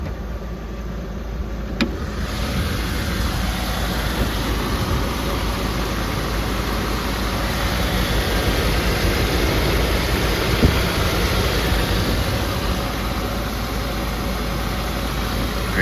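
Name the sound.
2004 Land Rover Discovery engine idling at operating temperature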